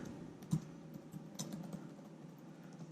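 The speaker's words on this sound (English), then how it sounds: "now that I typed a few things on the keyboard" Soft, quiet keystrokes on a Dell Inspiron 7472 laptop keyboard, a few scattered light taps in a calm room.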